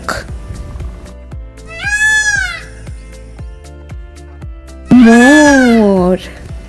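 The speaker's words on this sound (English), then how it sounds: "Peacock." A peacock lets out two loud, drawn-out wailing calls, the second stronger and longer than the first, with faint regular ticking sounds between them.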